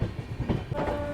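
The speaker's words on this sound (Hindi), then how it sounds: "गोविंदपुर रेलवे स्टेशन के प्लेटफॉर्म नंबर 3 पे पुरुषोत्तम एक्सप्रेस का अराइवल हो रहा है" The Purushottam Express rolls into a platform at Govindpuri railway station on the line from Jhansi, with a loud rumble and rhythmic wheel clatter close by and a brief horn tone.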